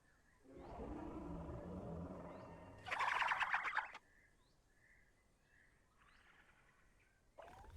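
Troodon dinosaur calls in The Isle: Evrima game: a warbling harmonic call, then a louder raspy burst, followed by faint chirps and a short call at the end, with no talking.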